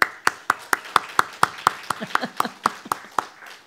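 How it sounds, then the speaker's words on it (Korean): A church congregation claps in welcome at a Sunday service, a slow, evenly spaced series of sharp, loud claps in rhythmic unison, about four per second, with faint murmuring between them. "박수로 환영합니다."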